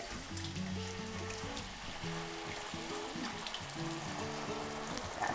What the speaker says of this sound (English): I'm going to bring some tomatoes to stop that thing from frying any further